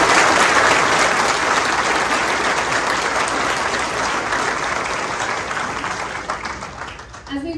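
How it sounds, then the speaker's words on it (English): Sustained, dense applause from a ceremony crowd honoring newly promoted sheriff's deputies at a Lee County Sheriff's Office quarterly awards event, steady and loud throughout before tapering slightly at the end. "join me in giving all of these deputies a round of applause for their promotion"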